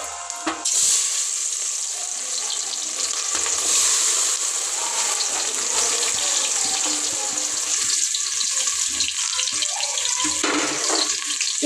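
Onions fry in hot oil for chicken dum biryani, a close, continuous bright sizzle with occasional stirring scrapes and bursts of crackle throughout.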